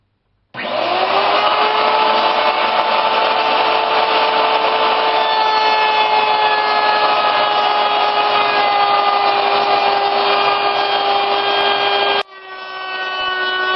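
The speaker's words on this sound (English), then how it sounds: "Okay, I'm at the router now." A router fitted with a Roman ogee bit shapes the edge of a wooden piece, making a loud, steady motor whine. The whine holds for about twelve seconds, then dips briefly and spins back up.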